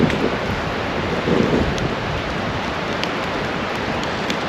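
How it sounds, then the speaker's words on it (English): Wind gusting through a forest at an evening campfire, a loud steady broadband rush with slight swells and no talk. "It's breezy. The wind picked up."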